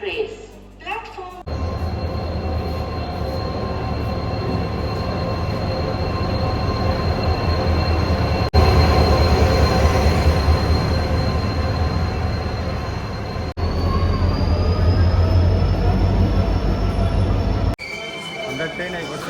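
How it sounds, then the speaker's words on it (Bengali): The Silchar–Agartala Express pulls into a station platform with a loud, sustained rumble of wheels and carriages, a rising squeal of wheels on rail, and steady clatter that continues for the whole stretch. "আমরা ট্রেন আই করছে আর চালিয়ে আমরা যাই ধর্মনগরে।"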